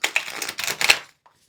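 Cards from the Wild Eden Tarot deck being riffle shuffled, a rapid, crisp fluttering rattle that runs about one second up close, ending with a single faint tap.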